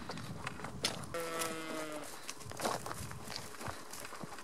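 Cattle low in a long, clear moo over an outdoor farm backdrop as they are rounded up by a rider on horseback, with faint hoof and footstep sounds scattered around the call.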